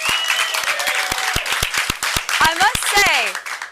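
Studio audience applauds a comedian on an entertainment show, a dense burst of clapping with sharp individual claps, while voices and whoops rise over it.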